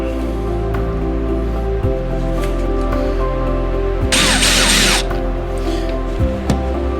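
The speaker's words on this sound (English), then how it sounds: "Countersink it." A drill countersinks a screw hole in wood with one short burst of about a second, loud and close, amid handling knocks and a steady low hum.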